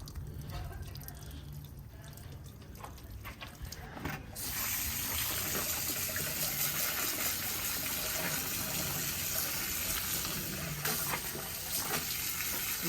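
Water from a tap rinses off-road dirt out of a K&N air filter, starting with drips and light splashing, then a steady, close gush of running water for most of the stretch.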